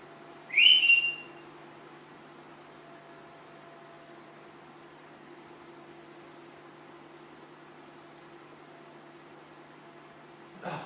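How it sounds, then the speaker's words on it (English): A single short whistle rises briefly near the start, then only a steady low hum of room noise continues. "I'm going to whistle in a moment."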